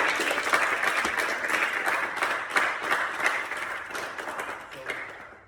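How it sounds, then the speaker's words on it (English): Round of applause from a seminar audience in a church after a Kenpo martial arts session, continuous clapping filling the room and slowly tapering, with faint talk underneath. "Everyone give a round of applause."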